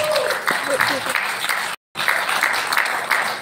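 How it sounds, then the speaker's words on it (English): Audience at the launch of an Indian supercross motorsport league breaks into a round of applause, dense clapping filling the space, briefly cut by a gap of silence midway before resuming. "All those not clicking or shooting can give them a big round of applause."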